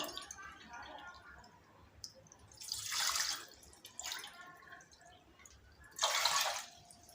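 Four bowls of water go into a pot for heating, heard as several splashy pouring bursts separated by quieter gaps, close by, with a voice speaking in between.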